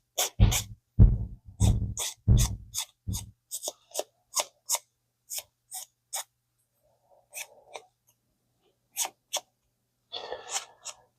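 Scissors trimming a small drag washer part for an Abu Garcia Ambassadeur 6501C3 fishing reel, a run of sharp close snips, heavy at first and then lighter and spaced out, ending with a soft rustle.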